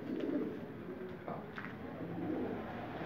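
Pigeons in a loft, faint soft cooing in a few low murmuring bursts against a quiet indoor background, with no one speaking.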